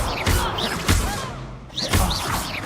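Levioso spell cast during a duel in Hogwarts Legacy, a few thumping magical impacts and whooshes at close range, spaced out with brief pauses between them.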